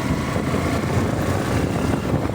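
A motorcycle engine making an abnormal noise in a workshop gives off a steady, loud, close rumble that holds at an even level throughout, with no clear rise or fall in revs.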